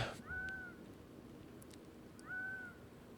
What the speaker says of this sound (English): that's the bird call on there.